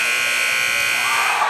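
A loud, sustained electronic buzzer sounds continuously in a high school basketball gym at the end of a quarter, steady and unbroken for the whole moment.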